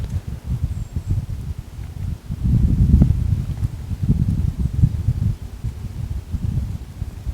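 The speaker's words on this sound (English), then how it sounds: "The wind's blowing right out this ridge here, kind of paralleling this ridge." Northeast wind blowing along a wooded ridge, buffeting and rumbling low and steady with gusty surges, leaves rustling faintly under the wind noise.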